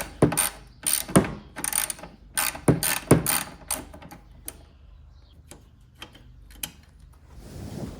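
A ratchet wrench clicks in fast bursts while bolts come off a lawn mower, close and loud at first, then thinning to a few scattered clicks and small metallic taps.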